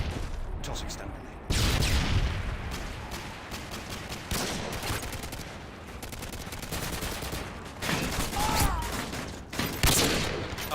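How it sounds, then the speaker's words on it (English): A stun grenade goes off amid sustained gunfire in a Call of Duty match, with dense overlapping shots and blasts continuing loudly throughout, and a voice briefly audible underneath. "Tossing stun grenade."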